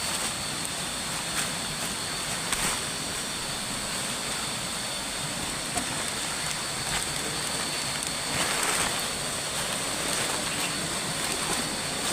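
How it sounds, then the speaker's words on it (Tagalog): Heavy rain pouring down beside a swollen mountain creek, a constant dense hiss and roar of falling water with small irregular spatters, close and unbroken. "Lakas ng ulan mga kaibigan."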